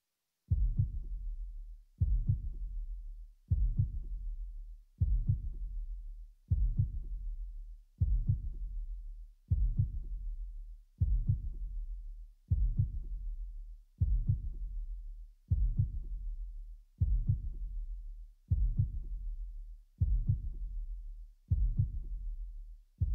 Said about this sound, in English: Just a heartbeat.